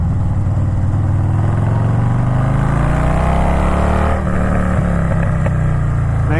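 A custom Stage 2 Harley-Davidson Softail engine drops through the gears on a sweeping bend, its loud, close exhaust burbling and falling in pitch with blips between shifts over steady wind roar.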